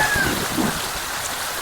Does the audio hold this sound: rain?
yes